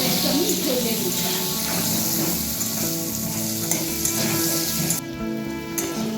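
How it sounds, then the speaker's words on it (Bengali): New potatoes frying in hot oil, a steady close sizzle running the whole time with faint stirring scrapes, no talk over it. "আলুটাকে অল্প করে একটু আমি ভেজে দিচ্ছি।"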